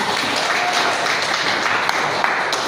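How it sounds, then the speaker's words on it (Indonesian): A seminar audience applauds steadily, a dense wash of many hands clapping at once, loud and sustained without a break. "Beri tepuk tangannya dulu dong"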